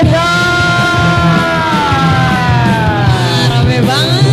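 A crowd at a televised talent-show event yells merdeka together in one long, loud, sustained shout of many voices, with a rising whoop near the end.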